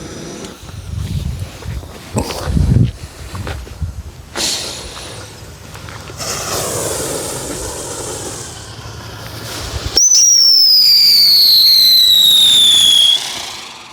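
Pyro Gyro fireworks go off outdoors with crackling, hissing bursts and pops, then a loud high-pitched whistling screech that descends steadily for several seconds before cutting out.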